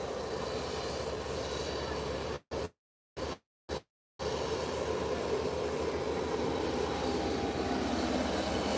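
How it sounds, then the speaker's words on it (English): A Beechcraft airplane taxis toward the end of the runway, a steady, fairly distant engine drone broken by a few brief dropouts. "the Beechcraft is going to the end of the runway"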